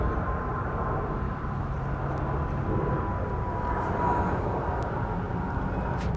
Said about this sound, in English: There's a plane above.